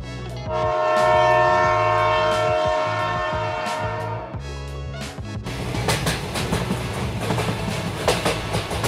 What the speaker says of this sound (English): Now the track is ready for commissioning and train is moving on the track.